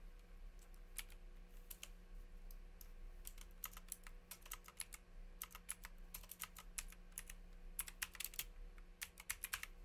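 Computer keyboard typing at a desk, quick irregular bursts of close, crisp key clicks over a low steady electrical hum, no speech.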